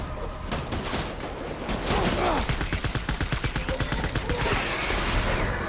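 Rapid bursts of gunfire in Death Stranding: scattered shots that build into a dense, rhythmic automatic volley, loud and close, then trail off toward the end.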